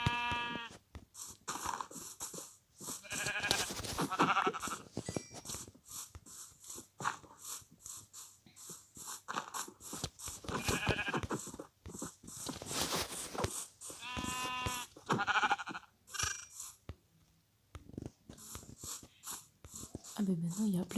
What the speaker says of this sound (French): Ah ben maintenant il y a plein de moutons.